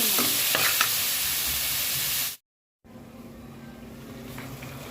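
Peas roasting in a butter tempering with salt and turmeric, the sizzle and scrape of stirring steady and close, cut by a brief silent gap before the frying resumes more softly.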